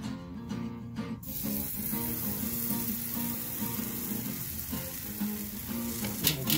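Pancake batter sizzles and fries steadily on a Blackstone griddle, a constant crackling hiss that starts after a short quiet moment, with faint clinks near the end.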